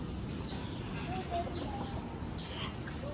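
Birds call near a peacock enclosure, soft cooing and short chirps rising over a quiet outdoor background with faint murmuring, moderately distant and intermittent.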